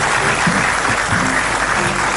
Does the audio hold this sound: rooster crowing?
no